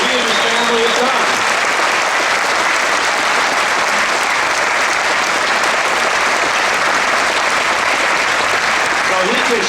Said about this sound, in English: give him a great round of applause for what he and his family have done